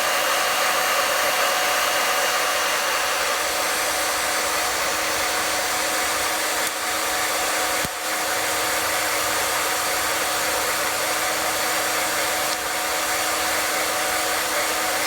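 Popcorn popper air-roasting coffee beans, a steady loud roar of hot blowing air that continues unbroken with a faint low hum and a couple of small knocks, with no talking.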